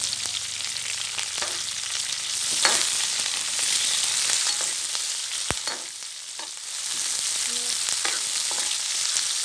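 Sliced onions frying in oil in a pan, with occasional stirring; a continuous bright sizzle with soft crackles and a few sharp clinks and scrapes of a utensil, fairly close.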